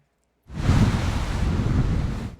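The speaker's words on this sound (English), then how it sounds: "The waves, after all, are 5, 6, and some are even 7 feet tall." Large storm waves, some six to seven feet tall, crash on the Lake Tahoe shore at Incline Beach during a windy winter storm, a loud sustained roar of surf and wind that starts abruptly after a brief silence.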